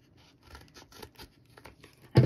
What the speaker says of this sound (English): So let me get my scissors and I'm going to kind of cut the edge of it.